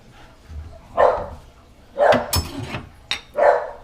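A dog barks close by in a home kitchen where sand bass is being prepared, three loud separate barks with a few sharp clatters between them.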